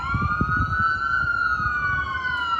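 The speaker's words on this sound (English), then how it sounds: "Imagine hearing sirens like that all night." A police siren wails, sweeping steadily over continuous road rumble in Los Angeles, loud and close, with layered harmonic tones holding throughout.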